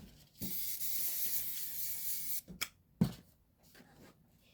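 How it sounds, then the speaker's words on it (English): Spray adhesive sprayed in a short burst onto the back of quilting fabric, a steady close hiss lasting about two seconds, followed by a few brief sprays and soft handling noises. "I'm going to give them a little shot of spray on the back."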